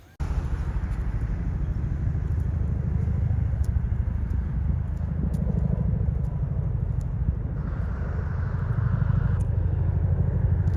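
A vehicle engine cranks in freezing, breezy cold without catching, a steady loud churning rumble running nearly unbroken throughout with slight variations in pitch.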